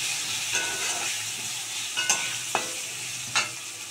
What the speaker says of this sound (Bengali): এই যে নুন হলুদ দিয়ে দিলাম, দিয়ে আলুটাকে আবার ভালো করে লাল করে ভাজবো